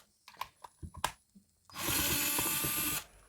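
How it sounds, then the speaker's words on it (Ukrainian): Small fasteners are handled and screwed into a multimeter case, a string of light clicks and taps followed by a loud whirring burst of about a second from a small powered screwdriver, close by and without speech. "Спершу вкручуємо 4 кріплення."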